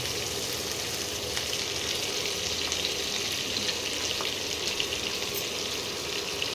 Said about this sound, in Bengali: অল্প করে একটু ভেজে নিতে হবে।